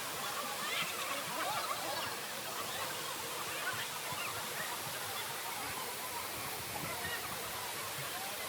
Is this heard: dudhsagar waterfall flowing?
yes